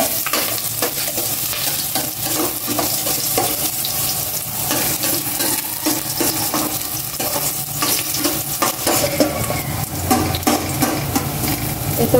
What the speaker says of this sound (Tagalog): Ganyan na po yung aking cooking oil. Isa ko na yung luya muna.